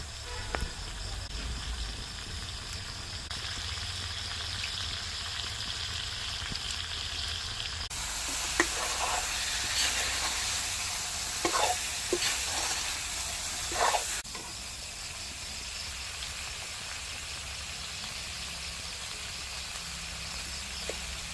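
Pieces of goat mutton fry in a pan with a low steady hiss, marked by a few louder sizzling bursts and scrapes as the meat is stirred, close and without talk.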